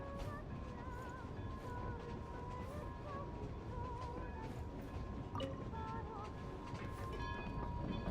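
A train rolls past outdoors in the cold and snow, its steady low rumble and faint rail clatter continuing throughout at a moderate distance, with no voices.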